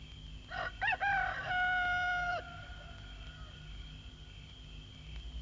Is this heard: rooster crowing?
yes